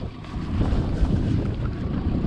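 A fishing boat motors up a creek while trolling, a low rumbling engine drone with wind buffeting the microphone and water rushing along the hull, close and fairly loud.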